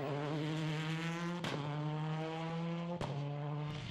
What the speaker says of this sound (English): That was Jean-Pierre Van der Waal with the WRC Skoda.